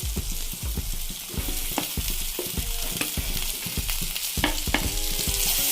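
Fried eel pieces tipped into sizzling masala, a dense close crackling fry with frequent low thuds and clatters as the pieces land and are moved about, no speech.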